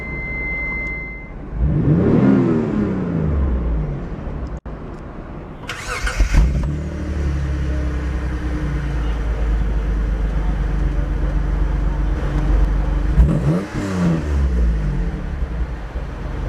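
A 1994 Mitsubishi 3000GT cranks and starts, then settles into a steady rumbling idle with a few blips of the throttle. Heard up close and loud, the exhaust note sustained throughout.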